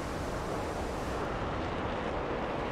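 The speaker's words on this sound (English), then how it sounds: "Explosions." Bombs exploding in the DCS flight simulator game, a dense, continuous roaring rumble of blasts that stays loud and broadband throughout, with no talk over it.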